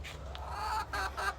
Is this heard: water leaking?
no